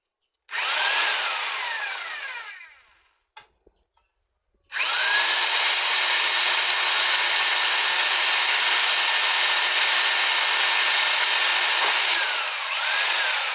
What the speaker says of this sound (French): Je vais maintenant utiliser la mèche pour percer.